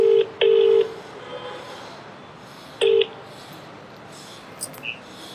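A phone keypad sends out dialing tones: a quick pair of loud beeps at the start, then one more beep a couple of seconds later, with quiet room noise in between.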